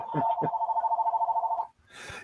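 A telephone rings with a steady electronic trill lasting about a second and a half, then stops. There is a brief voice at the start and a short burst of noise after the ring ends.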